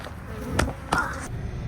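A swarm of honey bees buzzing close by in a continuous drone, with brief sharper rises from bees passing near, just after their hive was knocked over.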